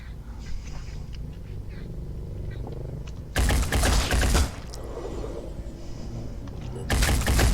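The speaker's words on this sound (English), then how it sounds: "Cannon missed again, what a surprise." A cannon fires and misses in the turn-based strategy game Phoenix Point, with two loud, harsh blasts standing out over a quieter, humming background.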